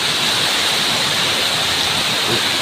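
Heavy rain and strong wind outside make a dense, loud, unbroken roar of pouring water, steady throughout.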